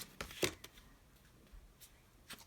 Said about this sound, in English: I'm just shuffling off deck.